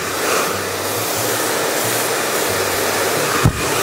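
A hair dryer blows steadily while curly hair is blow-dried straight, a loud, close, continuous whooshing hum with slight shifts as the brush moves, ending in a brief bump.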